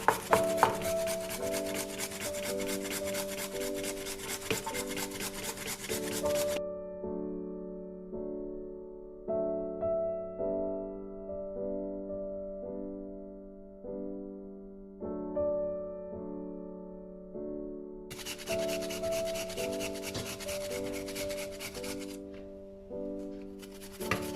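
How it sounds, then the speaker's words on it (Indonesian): A carrot for homemade chicken nuggets is grated on a cheese grater, making rhythmic rasping strokes over steady background music. The scraping stops for several seconds in the middle, then resumes. "kemudian baru kita serut dengan menggunakan parutan keju"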